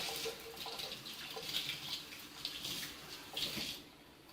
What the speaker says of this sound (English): we'll let it sit here and drain in the sink for a little while